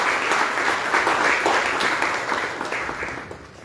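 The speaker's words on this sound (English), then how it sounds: "May I request everyone to welcome our esteemed chief guest with a warm round of" A crowd at a Goa talent search examination felicitation ceremony gives the chief guest a warm round of applause, dense clapping with a few sharper individual claps that gradually thins and fades toward the end.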